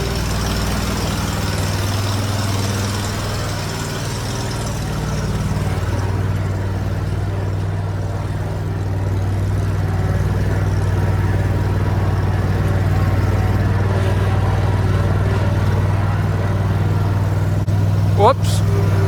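A John Deere Z930M zero-turn mower engine idles steadily in snow with a loud, constant low hum throughout, and a voice talks over it near the start.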